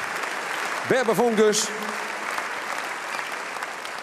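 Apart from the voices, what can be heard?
audience applause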